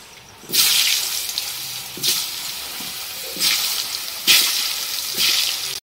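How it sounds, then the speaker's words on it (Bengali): Potatoes tipped into hot oil with turmeric in a wok (kadai) sizzle loudly in several separate bursts, each hissing surge rising sharply then settling into a steady fry. "এবার এর ভেতরেই আমি আলুগুলো ছেড়ে দেবো।"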